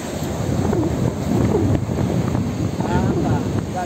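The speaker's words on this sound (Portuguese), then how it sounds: "Passando o ventinho aí." Wind blowing out at sea on a first trip on the water: a steady, moderately loud rush of wind buffeting the microphone, with a faint wash of water underneath and brief voices mixed in.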